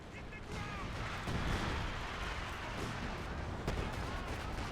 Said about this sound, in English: Lots of Allied artillery.